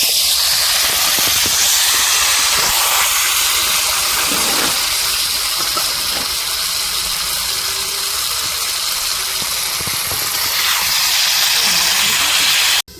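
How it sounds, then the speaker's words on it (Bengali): Meat being sautéed kosha-style in a pan in a home kitchen, giving a loud, steady sizzling hiss that runs unbroken for the whole stretch with a faint low rumble beneath. "রিমির বাবা এখন মাংসটা কষছে, মাংস হবে আজকে"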